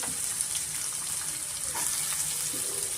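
Onions with fennel seeds frying in hot oil give a steady, dense hiss that stays even throughout, close and fairly loud with no talk over it.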